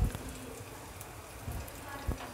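Asafoetida sizzling in hot tempering oil for a coconut chutney, an even crackling hiss with a few sharper pops, close and steady with no voices.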